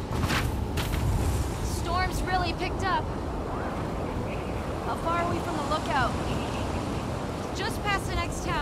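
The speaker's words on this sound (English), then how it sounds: "Storm's really picked up." Steady, roaring storm wind and crashing surf fill a scene in the video game The Last of Us Part II, loud and continuous, while voices talk intermittently over it.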